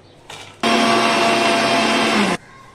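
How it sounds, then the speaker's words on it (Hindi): A loud, steady mechanical whirring from a mixer grinder grinding almonds, cashews, walnuts and pistachios runs for under two seconds, starting and stopping abruptly, with a brief lighter rattle just before it. "हमने सारे ड्राई फ्रूट्स को जो है मिक्सी में ग्राइंड कर लिया है।"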